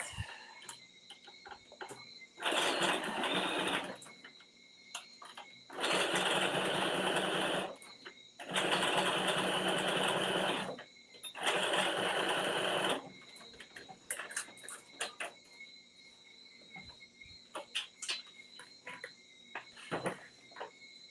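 A home sewing machine stitching fabric into place on a Simplicity 9598/9599 garment runs in four steady whirring bursts of one to two seconds each, fairly close, with quiet handling sounds between them.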